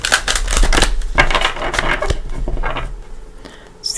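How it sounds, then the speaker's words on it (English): Tarot cards, a Mother Mary deck, shuffled a couple of times by hand, giving close, dense riffling and papery slaps in quick bursts that ease off toward the end. "I'm going to go ahead and give Mother Mary a couple shuffles"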